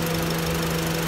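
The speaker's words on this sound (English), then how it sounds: "So now as you hear here, the fan just came on." A Honda Civic Si engine idling with its radiator cooling fan running, a loud, constant droning hum with a steady low tone and no change over the short stretch.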